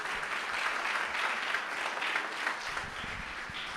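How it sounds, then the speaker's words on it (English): An audience at the launch of Diwali on Trafalgar Square applauds, a steady, fairly faint wash of clapping heard from some distance, continuing evenly for several seconds. "I'd like to give you a round of applause."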